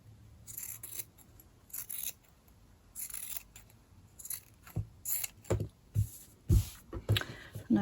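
Scissors cut cotton fabric for a slow-stitched sewing vessel, with a series of close, crisp snips in irregular bursts that come faster and louder toward the end.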